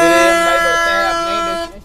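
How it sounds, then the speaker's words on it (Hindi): A loud, sustained bus horn blares close by, holding a steady tone before cutting off abruptly. "भैया के बस वाला हॉर्न बड़ा तगड़ा है यार"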